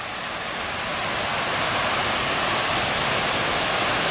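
Waterfall roaring beside the Kungsleden trail, a dense, continuous broadband rush that swells slightly and then holds steady, loud and close with no voices.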